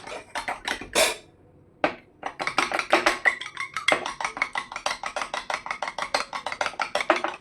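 Rapid rhythmic clinking of a fork whisking egg with a pinch of salt in a bowl, steady and close, after a brief pause near the start.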